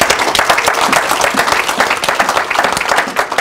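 A church congregation applauds the Lord at a French-language sermon, steady dense clapping from a large crowd filling the room at full volume throughout.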